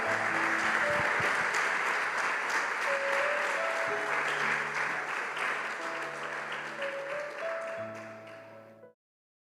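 A church congregation applauds God during a sermon, loud sustained clapping that fills the room with music playing beneath and then stops abruptly.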